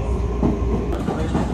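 A train runs on rails on the way into Kashiwa Station, a loud continuous rumble with steady clatter and a faint high whine throughout.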